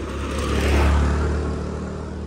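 A car drives past nearby, its engine rumble swelling to a peak midway and then easing off while the tyres hum steadily beneath it.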